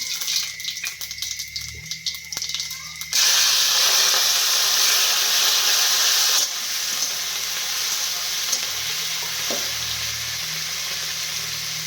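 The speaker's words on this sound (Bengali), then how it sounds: "প্রথমেই পাঁচ ফোড়নটা দিয়ে দিই।" Panch phoron hitting hot oil in a kadai alongside green chillies, onion and prawns, a sudden loud sizzle that flares up, then settles into a steady crackling fry, close by with no voices.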